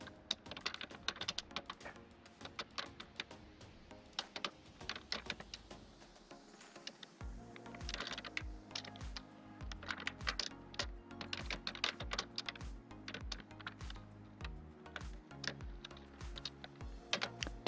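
Fast, clattering keystrokes on a computer keyboard as Java code is typed, dense irregular clicks close to the microphone throughout, with a low musical bed underneath and no talking.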